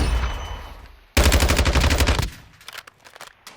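A 5.45 AK rifle in the video game Modern Warfare II fires a loud rapid full-auto burst lasting about a second, preceded by low rumble and followed by a few scattered quieter mechanical clicks.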